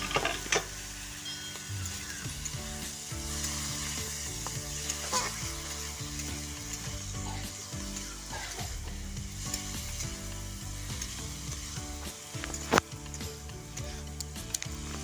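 Mango pieces frying and being stirred in a pan, a steady soft sizzle with scraping stirs and occasional light clinks, close and fairly quiet, with no talk.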